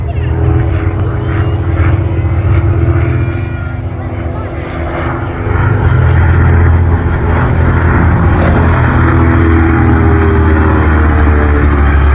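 Piston engines of WWII aircraft, a Hellcat fighter and a PBJ bomber, roar loudly and continuously overhead with a deep propeller drone that swells as they pass.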